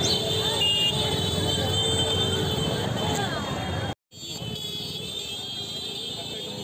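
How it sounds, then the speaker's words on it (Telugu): Bikes and auto-rickshaws honk amid a dense pilgrim crowd on the circuit road around Arunachala hill. A continuous, loud traffic din with horn blasts and crowd voices cuts out briefly before resuming. "ఈ హారన్ సౌండ్లు ఏంటిది అని అనుకుంటారా?"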